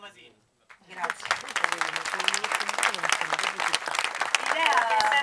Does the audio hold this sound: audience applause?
yes